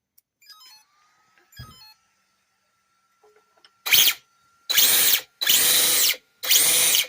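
An RC car drivetrain with upgraded differentials and a slipper clutch whirs loudly in four sustained bursts with short gaps, after a few faint clicks and a quiet tone.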